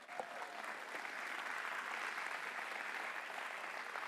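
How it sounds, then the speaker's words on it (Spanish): A church congregation claps together during a Sunday morning service, a dense, steady wash of applause heard at a moderate distance for several seconds. "¿Por qué no le damos un aplauso al Señor?"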